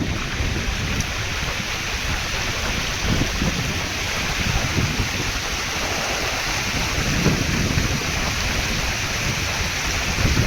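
Water pours steadily outdoors like a small waterfall at a hill resort, a dense, continuous rushing hiss, loud and close with no break.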